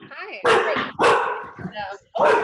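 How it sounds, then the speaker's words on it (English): Max, an English bulldog, lets out several loud close barks in quick bursts, with a whiny yip between them and a person briefly speaking a greeting. "that was my dog that was barking"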